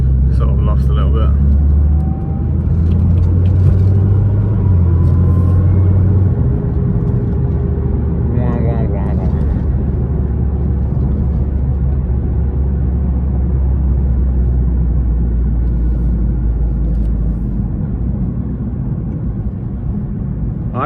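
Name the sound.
Nissan GTR R35 car engine while driving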